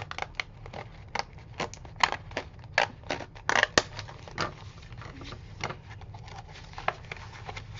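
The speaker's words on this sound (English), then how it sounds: "I'm just going to cut it right about here." Scissors cut through paper while an envelope is being made, giving a series of close, crisp snips and crunching slices at an irregular pace, with no talking.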